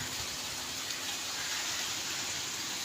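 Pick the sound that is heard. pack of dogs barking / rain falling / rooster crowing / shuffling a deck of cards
rain falling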